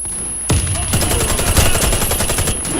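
Rapid bursts of automatic gunfire, loud and close, crackle continuously with a few heavier shots mixed in.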